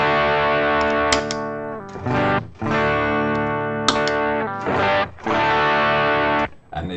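Way Huge Red Llama overdrive pedal stacked with another drive on electric guitar, loud saturated chords ringing out in several sustained strums with brief gaps, no talking.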